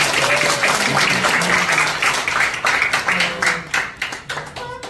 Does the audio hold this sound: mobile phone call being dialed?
no